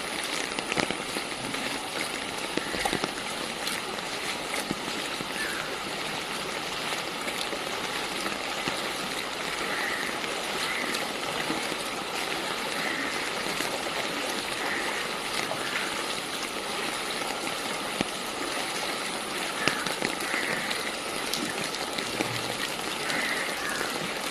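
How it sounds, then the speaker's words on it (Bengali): Water flows steadily along a stream, a constant broadband rushing wash that holds even and unbroken throughout, with no voices heard. "আরো দেখাচ্ছি কত কত কত কত জল, কত জল, কত জল। এই দেখো, সামনে আরো আছে জল।"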